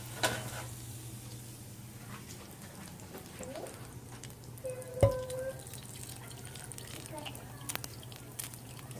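Melted bacon fat pours and drips into a candle held over a kitchen sink, a soft steady trickle under low background hum, with one brief sharp clink about midway.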